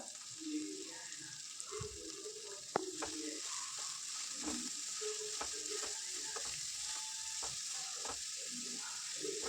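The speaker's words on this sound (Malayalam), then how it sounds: "ഇനി ഇതിലേക്ക് നമുക്ക് പാലക്കിൻ്റെ ഇല അരിഞ്ഞു വെച്ചത് അത് ചേർത്ത് കൊടുക്കാം" Chopped palak (spinach) leaves sautéing in a pan with softened onions for thoran, a steady soft sizzle with scattered stirring clicks and scraping throughout, one sharper knock near the start.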